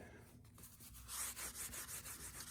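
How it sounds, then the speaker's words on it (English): A rag rubs and wipes across the metal surface of an antique anvil sprayed with brake cleaner, rhythmic scrubbing strokes close by that get louder and faster midway through. "we're gonna take this brake clean, spray it down, get it all wiped down real nice"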